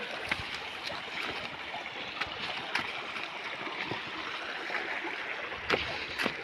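River water of the Narmada flowing and gurgling around people wading across on foot, a steady close wash broken by several sharp splashes and knocks.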